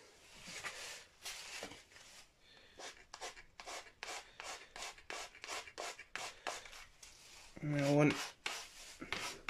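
The finish on an Orville by Gibson guitar headstock is scuff-sanded by hand in a run of short, quiet rubbing strokes up close, with a brief voice near the end.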